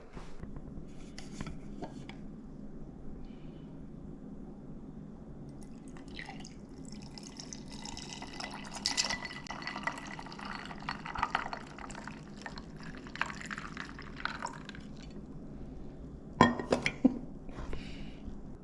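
Coffee pours over ice, with crackling, clinking cubes and splashy bursts, fairly quiet at first and growing busier, with a few sharp knocks near the end.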